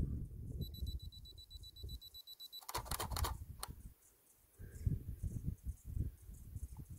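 A camera self-timer set to two seconds beeps in a thin, high, repeating pattern for about two seconds, followed by a quick burst of shutter clicks, over a low rumbling outdoor background by a river.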